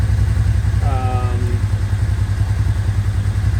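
The engine of a Kawasaki Teryx 2 side-by-side idles with a steady low rumble close by while a person talks over it.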